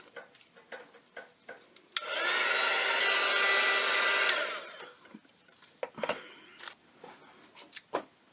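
A heat tool or dryer blows a steady, loud whoosh for about two and a half seconds to dry an art journal page, with soft handling taps and paper rustles before and after.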